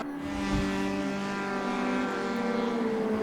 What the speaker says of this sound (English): These cars are so loud.